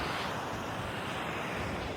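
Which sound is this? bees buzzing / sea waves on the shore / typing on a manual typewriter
sea waves on the shore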